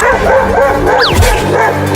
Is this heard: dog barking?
yes